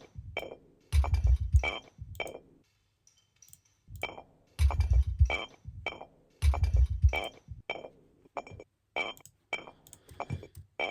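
Glass bottle clinking in Hackney, struck in bursts of bright, sharp chinks with short ringing tails, several clusters across the stretch separated by brief silences, close and fairly loud with no voices.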